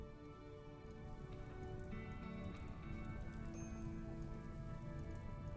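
Steady rain falling in the video game Rimworld during a big flash storm, a continuous dense patter that holds evenly throughout with no voices.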